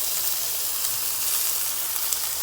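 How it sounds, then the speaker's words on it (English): Bacon fries in a pan with a steady, dense sizzle and crackle that stays close and even throughout, with no voices over it. "Look at the frying bacon right here. Frying nice and evenly."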